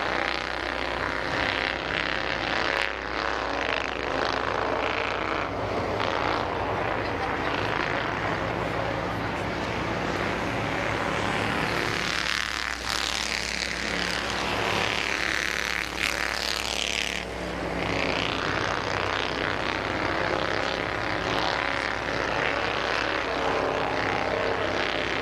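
Race cars in a heat race at Midvale Speedway roar continuously around the oval, a loud, dense engine drone that swells as cars pass, with faint background talk.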